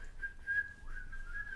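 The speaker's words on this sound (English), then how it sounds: "the whistling at the end." A clear whistled melody closes out a hard rock song, one steady tone that holds and slides for a short stretch, alone and fairly prominent.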